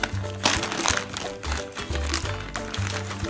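Plastic packaging holding Lego Brickarms minifigure weapons being torn open, with repeated crinkling and crackling bursts between brief pauses, close to the microphone.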